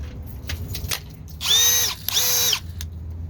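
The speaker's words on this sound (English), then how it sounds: "I want to try to drive or drill holes in the concrete" A Milwaukee M12 impact driver drilling into concrete revs loudly in two short bursts, each about half a second, between quieter mechanical clicks and background noise.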